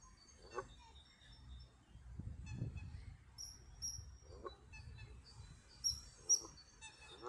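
A goose honks in a few short, fairly faint calls scattered across an outdoor scene, with low background rumble and bursts of higher chirping between them.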